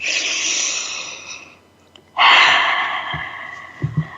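A long, airy breath is drawn in, fades to near silence, then a second deeper inhale follows, close and clear, ending with a few soft mouth and body sounds.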